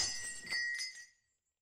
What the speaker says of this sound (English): Or did it shatter into a million pieces like this?